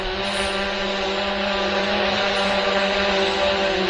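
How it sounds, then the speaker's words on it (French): A FIMI X8 drone flies and descends with a loud, steady, close motor whine whose tones hold even and unbroken throughout. "En descendant, je descends le drone là."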